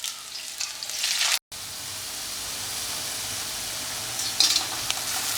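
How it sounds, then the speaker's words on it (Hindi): Onions and bay leaves hit hot ghee with a loud, continuous hiss and sizzle, a brief dropout midway, then steady frying with a crackling burst near the end. "घी हमारा गर्म हो चुका है। अब इसके अंदर तेजपान के 2 पत्ते और धीरे से प्याज डाल देंगे।"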